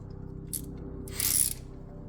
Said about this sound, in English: Using the new handy dandy Harbor Freight 7/8 socket.